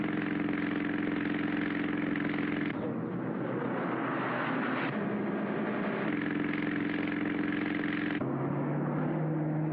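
A car engine drones steadily while driving at speed in a chase. The loud, continuous hum shifts in pitch a few times, with no break.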